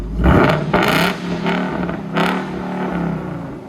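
A 347 Foxbody Cobra engine set to track mode revs in short loud bursts, roughly three sharp blips with a rough idle rumble between them, heard close up.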